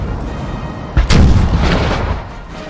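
Artillery fire in the video game Napoleon: Total War, a single heavy boom with a rumbling tail over a constant battlefield din, loud and fairly close, with no talk.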